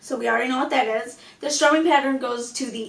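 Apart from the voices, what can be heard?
No everyday noises stand out.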